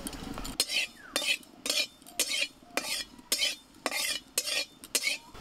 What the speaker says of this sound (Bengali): এবার কড়াইয়ে 5 ফোড়নটা ভেজে নেব।